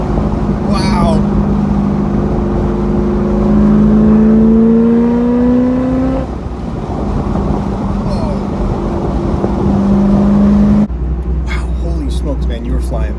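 A 1998 C5 Corvette accelerates hard from inside the car, its engine note climbing through gears in long rising sweeps, loud and continuous, with people talking and exclaiming over it.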